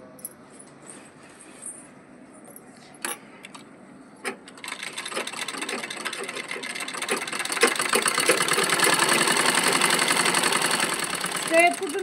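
Sewing machine stitching a cross-panel petticoat, starting with a few scattered clicks and then settling into a steady, rapid mechanical whir close by that runs to the end.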